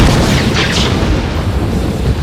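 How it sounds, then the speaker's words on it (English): Frieza's explosive attack in Dragon Ball Xenoverse 2 erupts as a loud, sustained booming blast with a crackling, rumbling tail and a brief whooshing sweep, heard alone. "It sounds like a whole nuke is going off, right?"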